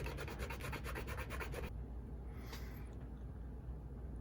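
A metal part of a Roundhouse 0-6-0T model steam locomotive is filed with a steady back-and-forth rasp, a run of rhythmic close strokes that stops partway, leaving only quiet room hiss.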